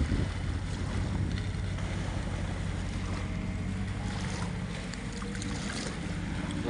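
Fast-flowing river water rushes steadily near the old Rajahmundry bridge, where boats line the water, a continuous broad roar mixed with buffeting wind on the microphone.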